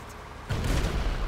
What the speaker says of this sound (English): that's the main cannon